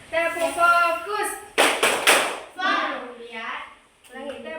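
A classroom of pupils chants in unison while doing a rhythmic clapping routine led by a teacher; a few sharp, close claps in quick succession break up the group chanting.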